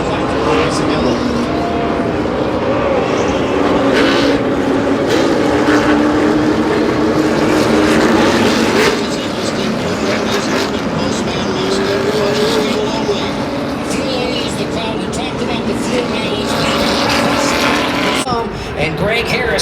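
NASCAR stock cars racing at Daytona during the 2021 Coke Zero 400, heard from the grandstands as a steady, loud engine roar that barely lets up, with crowd noise and a public-address voice blended underneath.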